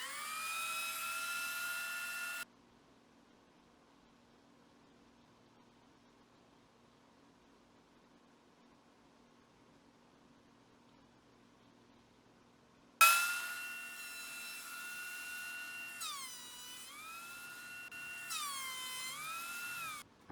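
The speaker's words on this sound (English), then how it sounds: "Carry it over to my thickness planer. I'm gonna run this thing through and plane it down." A thickness planer feeds a wood block for a hammer build, giving a loud high whining roar that stops, leaves a quiet gap and then starts again with shifting pitch.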